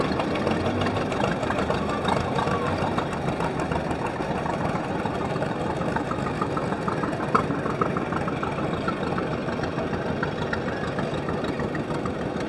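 John Deere tractor engines rumbling steadily along the road in a Veterans Day parade, a continuous mid-to-low idling chug with knocking texture and outdoor crowd ambience, no clear talking.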